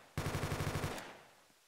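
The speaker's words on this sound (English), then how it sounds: "You kind of need to shoot him with a heavy gun." A heavy automatic gun in a video game fires at a gore dummy, a single rapid burst of about nine evenly spaced shots lasting under a second, loud and close, then a short fading echo.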